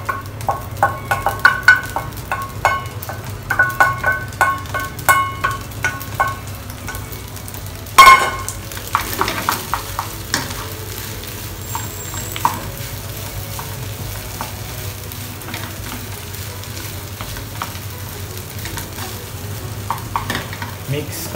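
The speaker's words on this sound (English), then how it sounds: "mix, combine everything together" Vegetables stir-fried in a hot pan with sake for Japanese fried rice: a steady sizzle with rapid clattering strokes of a spatula in the first half, a sharp clank near the middle, then quieter continuous frying.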